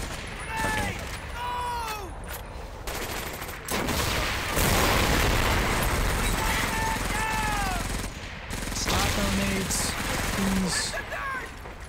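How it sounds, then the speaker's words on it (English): Dense in-game gunfire and heavy explosions as tanks are blown up in the World War II shooter Medal of Honor: Vanguard, sustained bursts and booms filling the whole stretch, with whistling shells and rumbling blasts throughout. "I'm trying to blow up your tanks here."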